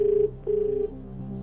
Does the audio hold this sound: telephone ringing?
yes